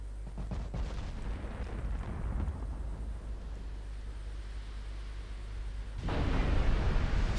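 Warship guns firing in a 1957 Norwegian campaign of a naval battle game: heavy booming salvos, with a rumbling burst early on, a long decaying tail, and a louder renewed blast near the end.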